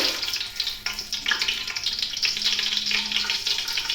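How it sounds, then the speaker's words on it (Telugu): Whole spices, beginning with cinnamon, sizzle steadily in four spoons of hot oil for mushroom biryani, a dense, continuous close-up crackle with no voices. "4 స్పూన్ల ఆయిల్ వేసుకొని ఆయిల్ హీట్ అయ్యాక ఫస్ట్ చెక్క వేసుకోవాలండి"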